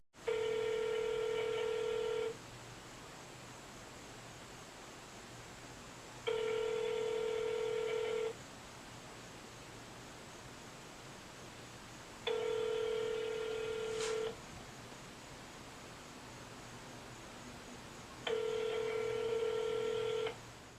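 An unanswered telephone call rings back repeatedly, four long steady ringback tones about two seconds each separated by roughly four seconds of quiet, heard alone over a faint line hiss.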